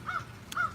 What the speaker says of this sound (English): The crows are crowing.